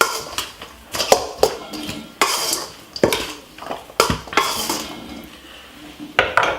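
A utensil tosses couscous and fish salad in a bowl, giving close, irregular scrapes and clinks against the dish in uneven bursts, with short pauses between strokes and no speech.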